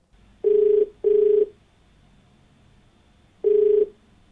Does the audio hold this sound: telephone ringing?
yes